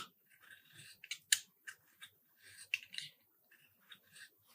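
A knife cuts and peels a reed while a calligraphy qalam pen is being shaped, giving sparse, crisp scraping and snipping sounds in short bursts against near silence.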